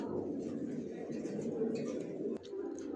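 Racer pigeons in a loft give a steady, low, murmuring coo throughout, broken by one sharp click near the end.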